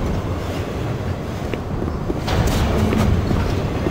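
Train moving in the video game Doom 3, a continuous low rumbling and rattling that swells slightly louder partway through, with no talking.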